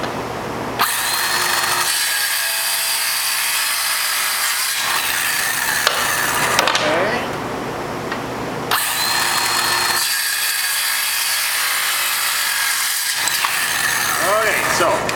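Power tool angle-cutting the ends of bumper plastic, a loud steady whining cut running in long stretches with brief pauses between passes, close up, with little talk.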